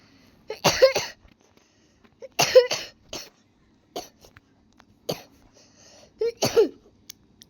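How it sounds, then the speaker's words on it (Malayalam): A person coughs in several harsh bursts spaced a second or two apart, close and loud against an otherwise quiet room. "ഭയങ്കര ചുമ കേട്ടോ, ഭയങ്കര ചുമ എന്ന് പറഞ്ഞ ചുമ"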